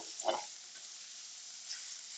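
Onions cook in a Circulon SteelShield pan alongside a burger, giving a soft, steady sizzle that opens with a brief louder sputter and then holds quietly.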